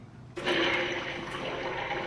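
A giant toilet flushes a load of Sour Patch Kids candy, a sudden loud rush of water that bursts in and keeps churning steadily, close and without talk.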